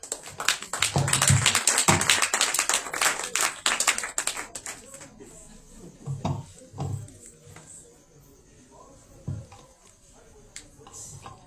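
Audience applause at a Christian Passover (Pessah) celebration gathering, a burst of clapping building for a few seconds then thinning into scattered claps and taps with faint voices.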